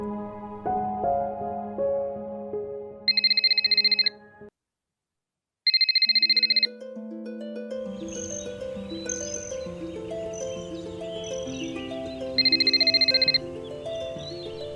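A telephone rings again and again without being answered, three short bursts of a bright electronic ringtone spaced apart over a background of soft music.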